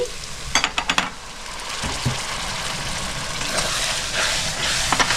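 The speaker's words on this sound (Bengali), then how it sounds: "সামান্য একটু জল দিয়ে দিচ্ছি।" Water splashing into a hot pan of fish-head cabbage, setting off a loud, steady sizzle with a few sharp clatters early on; no talking.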